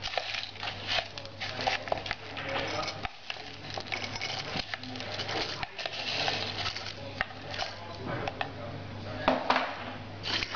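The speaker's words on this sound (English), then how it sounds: "Then I'm adding just ice." Ice cubes rattle and clatter into a mojito glass in a dense, continuous jumble of knocks and crunches, close and fairly loud, with a steady low hum beneath.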